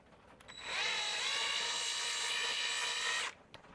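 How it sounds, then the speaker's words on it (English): A small power drill whines steadily for about two and a half seconds, boring a little hole into a Commodore 64, close and loud with a sharp start and stop. "So what we're going to do is drill a little hole in there. Hopefully that drill noise isn't too bad"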